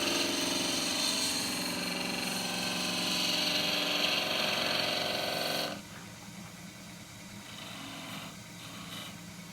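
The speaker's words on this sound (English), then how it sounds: "I'm going to use the short corner of the skew chisel." A skew chisel cuts an endgrain bowl spinning on a wood lathe, a loud continuous high whirring and shaving rasp that drops suddenly to a quieter running hum after about six seconds.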